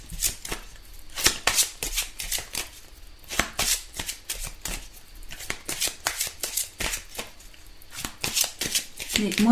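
Angel oracle cards being shuffled by hand in a series of crisp riffling bursts, quick rhythmic flicks with brief pauses between, close and clear with no talking.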